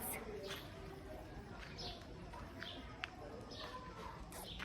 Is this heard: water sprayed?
no